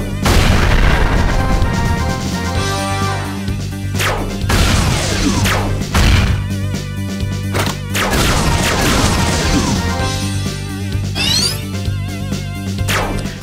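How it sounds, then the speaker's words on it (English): A powered-up grenade in the Blaster Master video game sets off a few loud, crashing booms with sharp impacts, spaced several seconds apart over steady game music. "Try out my powered up grenade."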